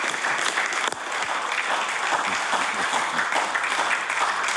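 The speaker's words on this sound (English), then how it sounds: "So if everybody could give her a round of applause, please." Applause fills the House of Assembly chamber, a dense, sustained patter of many hands clapping at fairly close range with no talk over it.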